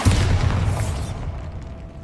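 A Bombarda spell explodes in Hogwarts Legacy, a loud full-bodied boom that swells over the first second and then decays into a rumbling tail, with no talking over it.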